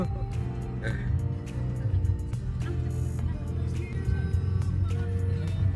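Car traffic on a congested road in Cebu, heard from inside a vehicle as a constant low rumble of engines with scattered clicks, taps and faint tonal sounds over it.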